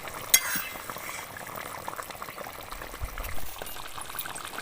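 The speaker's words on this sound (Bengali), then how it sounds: "ঝোলের সাথে মাছটা আমি কিছুক্ষণ ফুটিয়ে নেব" Rohu fish simmering in mustard and poppy seed gravy, a soft bubbling boil with faint liquid movement and an occasional light clink, no voices.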